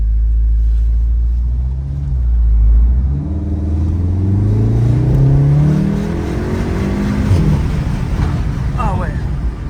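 A Volkswagen Golf 7R engine revs hard through the gears in race mode with the window down, a loud rising and falling roar of acceleration with turbo whoosh, while people talk over it.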